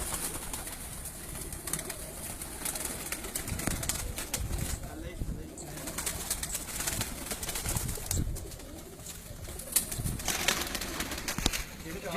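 A Teddy pigeon on a rooftop coos softly amid outdoor background noise, with people talking nearby.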